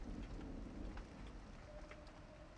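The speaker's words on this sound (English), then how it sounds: "The storm rages." A raging thunderstorm at night with steady rain and a low rumbling of thunder, a dense, constant wash of sound without voices, made as an audio drama effect.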